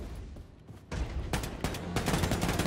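Gunfire in the shooter game Wolfenstein II: The New Colossus, loud rapid bursts and repeated shots crackling after a brief quieter lead-in.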